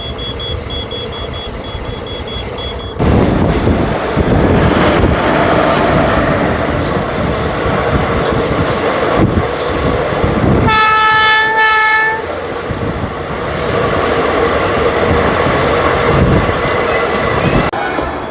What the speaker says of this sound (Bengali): দু মিনিট দাঁড়ানোর পর বর্ধমান জাংশন থেকেও আমাদের ট্রেন এখন ছেড়ে দিল